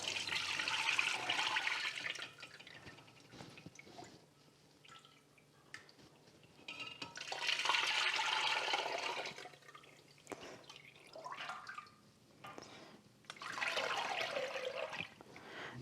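Bone broth poured into a container, three long swelling pours of liquid splashing and trickling, each separated by quieter drips and small clinks, heard up close with no talking.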